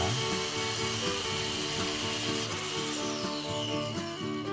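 Angle grinder smoothing the rough cut edge of a ceramic tile for a corner shelf, a steady loud whine with grinding chatter running continuously, close by, with no talking.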